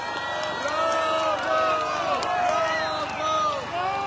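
A protest crowd of union members cheers and calls out in a dense, continuous roar with babble throughout, loud and near, with shouted voices rising and falling over the steady noise.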